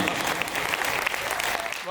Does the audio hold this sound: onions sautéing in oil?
no